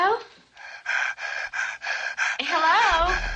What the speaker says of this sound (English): When Caleb uses another phone, we can hear a heavy breathing sound